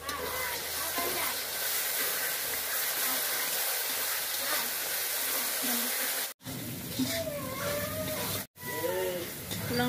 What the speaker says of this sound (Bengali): রসুনটা ভাজা হয়ে গেছে, এখন লঙ্কাটা দিয়ে দিচ্ছি।